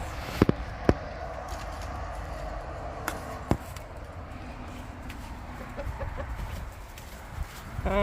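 A few soft clucks from hens scattered through a quiet outdoor background, with several sharp knocks or taps early on.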